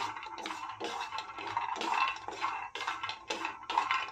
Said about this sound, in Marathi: बदाम चांगले भाजून घ्यायचे आहेत.